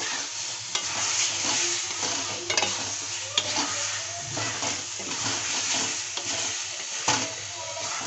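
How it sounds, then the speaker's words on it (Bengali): Potatoes and spice paste being stir-fried in a pan for a village-style egg curry, a steady close sizzle with repeated scraping strokes of the spoon, no voices. "তাই আমি আলু মশলা ভালোভাবে আবারও কষিয়ে নেব।"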